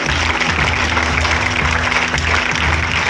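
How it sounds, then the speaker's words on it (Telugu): Steady, dense applause from a large crowd at a school kit distribution event fills the whole stretch at a loud, even level over a low background hum. "మనం అందరం చప్పట్ల ద్వారా లోకేష్ బాబు గారిని అభినందిస్తూ"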